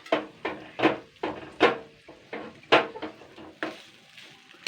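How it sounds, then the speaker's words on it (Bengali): Maggi spice mix being stirred in a pan while cooking fish eggs, giving a series of close, sharp scraping clinks of a utensil against the pan in an uneven rhythm, with no talk. "এটা সুন্দর করে নাড়াচাড়া করে দিতে হবে"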